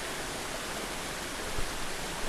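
Waterfall deep in a Thai forest: a soft, steady rush of falling water heard from a distance, faint and constant, with a slight swell near the end.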